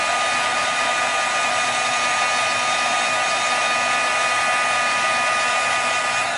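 A hair dryer blows steadily and loudly, drying sparkling pigment on a leaf held on contact tape, one unbroken whir with no speech.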